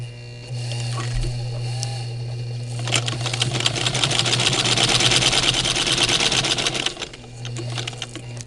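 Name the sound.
sewing machine top stitching a fabric face mask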